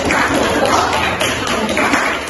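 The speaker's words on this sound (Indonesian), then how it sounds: "Tepuk tangan untuk kita semua." Students in a classroom clapping together, a dense, close burst of overlapping hand claps filling the room without pause.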